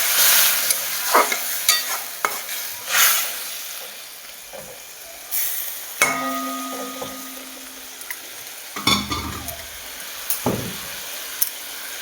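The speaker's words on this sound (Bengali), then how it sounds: "একটু ভাজা ভাজা হয়ে গেছে" Bitter gourd fries in a pan with mustard paste while a spatula stirs it, giving a steady sizzle broken by repeated scraping strokes and a few sharper clatters, close and fairly loud with no talking.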